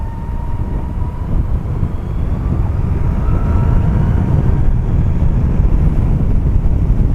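A 2012 Zero DS electric motorcycle ridden at full throttle in sport mode, giving a steady, loud roar of wind rushing past with a faint whine underneath throughout, and no talking.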